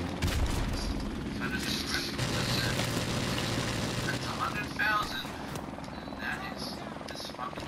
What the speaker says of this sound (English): What is that, an enemy helicopter inbound.